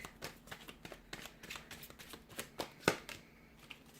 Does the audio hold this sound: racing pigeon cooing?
no